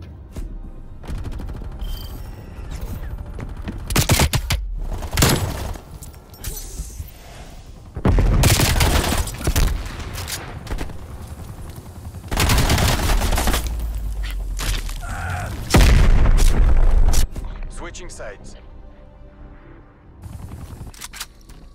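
Heavy gunfire in Call of Duty: Black Ops Cold War, with loud bursts and volleys of shots in several clusters, separated by quieter stretches of battlefield ambience.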